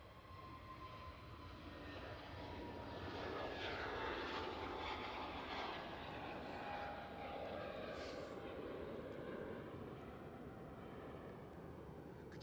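EasyJet airliner rolling for takeoff at Glasgow airport, a distant steady jet engine roar that swells in the middle and stays constant, heard from afar.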